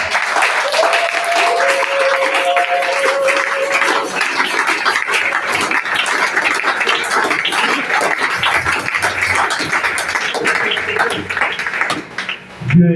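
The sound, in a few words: congregation applauding and acclaiming the Lord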